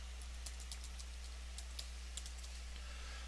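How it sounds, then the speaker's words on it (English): Keys on a computer keyboard are typed in short, irregular clicks, close and fairly quiet, with a steady low electrical hum underneath and no talking. "So I just want to go ahead and type in error message here."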